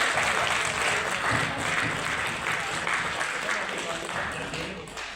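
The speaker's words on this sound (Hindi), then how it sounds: "उनका तालियों के साथ स्वागत करेंगे।" An audience claps to welcome a speaker at a public talk on journalism. The applause is dense and sustained, close and full, and eases off slightly toward the end.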